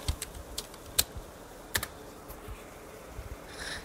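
Keys clatter on a computer keyboard as a search is typed into a browser, a few sharp distinct clicks spaced irregularly over a quiet room background.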